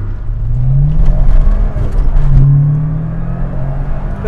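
A 33-year-old Fiat Uno Turbo's engine revs up and accelerates hard, loud and close, its rising engine note climbing in two surges with a whirring drone between them.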